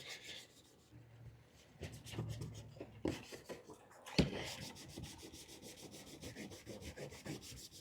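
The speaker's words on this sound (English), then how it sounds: "I just did a quick scrubbing across the top of the track, you know, like flat across it" Flat scrubbing strokes across the top rails of a Lionel Crayola Activity Train model track, rasping and rubbing in repeated short passes, close and fairly quiet, with no talking.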